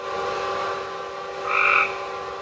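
Toads and frogs croak through a rainy night while camping in an Appalachian rainforest, a steady chorus with one louder, nearer call swelling briefly toward the end over the constant hum of a swamp cooler.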